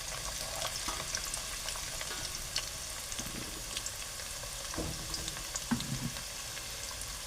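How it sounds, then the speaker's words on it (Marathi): Onion tipped onto a cumin and mustard seed tempering for a Marathi soybean chunk curry, frying with a steady close sizzle and crackle plus occasional stirring clinks, with no voices. "कांदा मी फोडणीवरतीच टाकणार आहे जिरं राईवरती."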